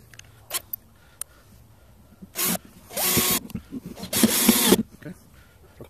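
Power drill driving screws into a chainsaw beam-saw jig, heard as two short close whirring bursts of about a second each, preceded by a brief higher buzz and a few light clicks in a quiet room.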